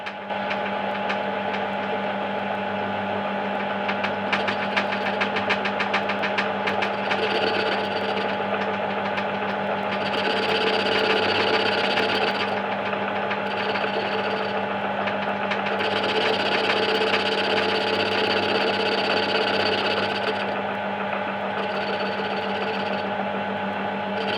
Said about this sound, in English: The actual machining doesn't take very long.